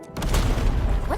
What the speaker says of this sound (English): Did some machine just explode?